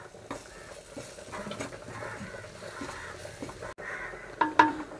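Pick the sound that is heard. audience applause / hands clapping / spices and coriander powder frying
spices and coriander powder frying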